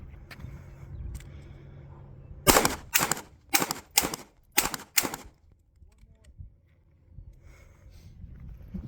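At a live-fire range, a pistol fires six shots at a target from far back, in a quick, steady string of sharp cracks. Low background noise sits before and after.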